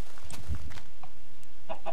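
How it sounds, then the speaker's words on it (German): Chickens cluck in short, scattered bursts in Minecraft, a few close clucks and squawks over about two seconds with faint background sounds. "Hallo Huhn. Hallo Hühner, yay!"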